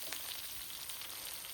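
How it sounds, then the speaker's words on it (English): Steady butter and olive oil sizzling in a hot pan, a continuous bright crackle with no voices over it. "let's get the butter and the olive oil all sizzling away"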